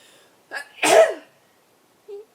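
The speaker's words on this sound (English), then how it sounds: "I'm going to sneeze." A single loud sneeze up close, preceded by a quick intake of breath and followed by a brief soft sound.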